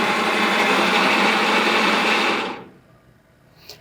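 Wide belt sander motor running as the machine drives its bed to a set thickness, a loud steady mechanical whir that winds down and stops, followed by a faint click.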